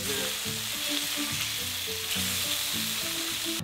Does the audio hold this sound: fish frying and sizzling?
yes